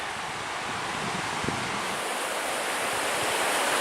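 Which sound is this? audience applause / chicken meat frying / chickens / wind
wind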